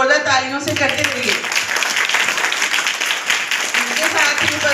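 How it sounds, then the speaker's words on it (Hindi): Applause welcoming guests at a public event, scattered clapping that builds into a steady crowd patter after a brief voice at the start. "इन सभी का स्वागत जोरदार तालियों से करते हुए"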